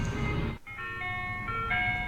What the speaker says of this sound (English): Here comes the ice cream truck again.